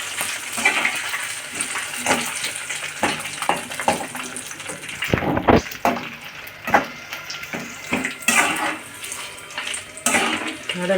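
Chana dal, dried chillies and curry leaves frying in hot oil for a tamarind rice tempering, a continuous sizzle and crackle with irregular louder spits and bursts close by.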